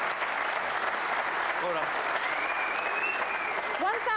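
Audience applauding at a celebrity snooker charity match, a sustained crowd clap heard fairly distant while someone talks briefly over it.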